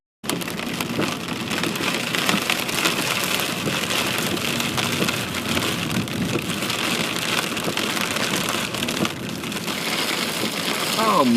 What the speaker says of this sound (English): there's a hailstorm